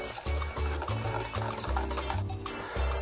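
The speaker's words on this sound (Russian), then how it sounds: "Мешали" A spoon stirs Caesar dressing mixed with grated parmesan in a bowl. It makes quiet, close, rhythmic swishing and scraping strokes, with no talking.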